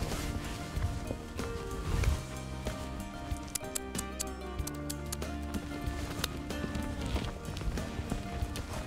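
A horse being driven around a round pen, its hooves clip-clopping in a steady loose rhythm against a busy, noisy background with scattered sharper knocks.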